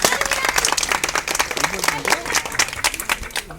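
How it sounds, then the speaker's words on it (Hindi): An audience at a Buddhist religious storytelling gathering claps hands in a dense, continuous patter of overlapping claps, with some voices mixed underneath. "ताली बजाओ।"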